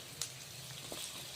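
Tomatoes dropped into hot oil for a spinach gravy, giving a short, steady close-up sizzle and frying hiss with a slight crackle at the start.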